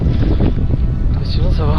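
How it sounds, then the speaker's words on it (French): Cool wind blows across a microphone high in the Pyrenees mountains, a steady rumbling buffet under a voice speaking briefly. "Ce petit vent frais là"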